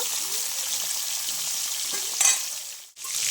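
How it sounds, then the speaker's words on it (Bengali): Pieces of fish sizzle steadily in hot oil in a pan, a continuous close frying hiss with a short spatter burst near the end. "মাছগুলো একে একে আমি সব ভেজে নেব"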